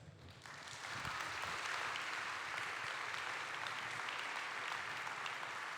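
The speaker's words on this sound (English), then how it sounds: "Give it up for Kenneth. Another round of applause." A conference audience applauds a talk on the NASA James Webb Space Telescope, with sustained dense clapping that swells after the first second and holds steady.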